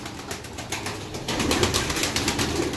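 Iraqi-breed pigeons kept for sale, their soft cooing and fluttering close by, with a steady bed of flock noise that grows a little louder partway through.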